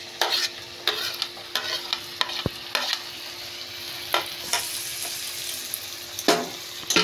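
Pre-fried potatoes and green peas stirred into spices in a kadai, with a steady sizzle under repeated scraping spatula strokes at an uneven rhythm, close and fairly loud, no voices.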